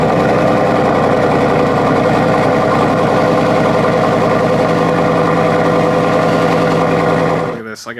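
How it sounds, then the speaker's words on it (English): A Mitsubishi Eclipse engine runs after a cold start, holding a loud, steady, buzzy idle close by before cutting off abruptly at the very end. "So let's get us a little cold start."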